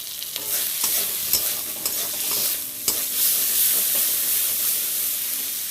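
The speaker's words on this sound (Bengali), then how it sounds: "সামান্য জল দিলাম এটা ভালো করে নেড়ে করে কষিয়ে নেব" Curry with turmeric and a little added water being stirred and fried in a pan, steady loud sizzle with repeated scraping stirs and a few sharp clinks, close by with no talk.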